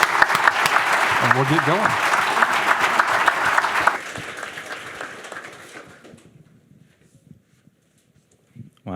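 An audience greets Severo Perez with loud, sustained applause at an anniversary event for the Chicano classic "...and the earth did not swallow him," dense clapping that fades out over several seconds, while a voice speaks briefly over it.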